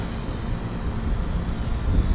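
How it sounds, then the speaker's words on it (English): A small project airplane drones steadily overhead as it flies back in to land, with a continuous engine hum that is moderately loud and unbroken. "I'm going to bring the plane back in."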